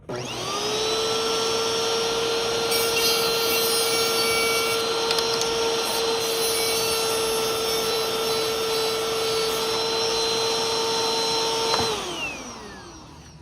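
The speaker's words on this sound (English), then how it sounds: "I'm just going to polish up, get rid of as much of this rust as I can" An electric polishing tool scrubs rust off a Bissell vacuum part, giving a loud, steady high whine with a gritty hiss that holds for about twelve seconds, then spins down and fades.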